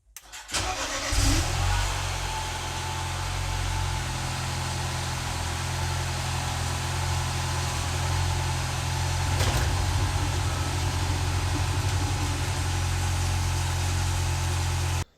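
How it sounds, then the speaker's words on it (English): A car engine cranks and catches, then settles into a steady, close idle with a low rumble that continues to the end. "I'm gonna go ahead and start the car"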